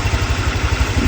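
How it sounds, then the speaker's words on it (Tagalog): A motorcycle engine converted into a generator runs outdoors on a farm, its loud, close idle thumping in a steady rapid rhythm with a rough mechanical clatter over it. "motor, naging generator"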